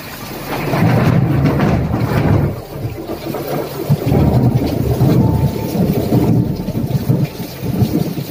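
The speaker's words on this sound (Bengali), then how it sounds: "এত বৃষ্টি দেখো, মুষলধারে বৃষ্টি" Torrential monsoon rain pours down hard around a house while thunder rumbles low and heavy through it, a loud, dense, continuous roar with a brief lull partway through.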